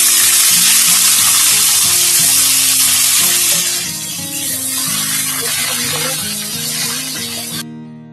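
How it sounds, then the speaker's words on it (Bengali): Loud, hissing sizzle of chicken pieces frying in oil with cardamom, cinnamon, a dried red chilli and a bay leaf. The frying is strongest at first and then eases, with background music throughout. "আমি প্রথমে এই চিকেন গুলো ভেজে নেব।"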